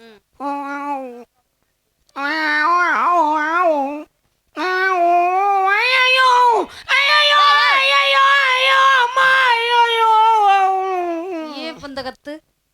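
Cats caterwauling while mating, with long, loud, wavering yowls rising and falling close by in several drawn-out bursts separated by short pauses.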